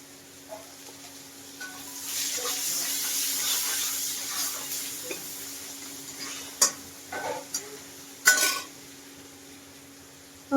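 Chopped onion goes into a pan of frying panch phoron, raising a steady sizzle, followed by a few sharp scrapes and knocks of stirring near the end.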